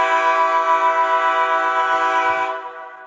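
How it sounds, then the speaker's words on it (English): A train's horn blasts in one long, loud, steady chord that holds for about two and a half seconds before cutting off, leaving a brief low rumble beneath. "the noise you probably hear the most is my horn when it blasts out"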